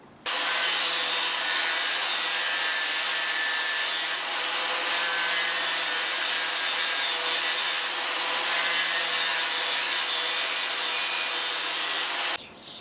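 Angle grinder working back a weld on a Honda CB500 scrambler frame, a steady, loud, continuous abrasive grinding that runs unbroken for about twelve seconds before stopping abruptly.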